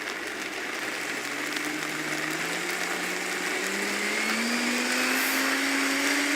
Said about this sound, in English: it's in the blender, you're blending it